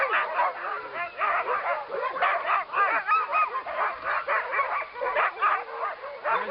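Several Alaskan Huskies bark, yip and whimper in rapid overlapping bursts inside a barn, close and continuous throughout.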